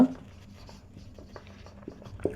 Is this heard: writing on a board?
yes